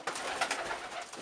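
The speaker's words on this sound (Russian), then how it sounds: "Вот сидит голубь." Pigeon cooing beside its nest in a dovecote where it has raised two broods of chicks, a close, steady throaty coo with slight pulsing swells and no talk.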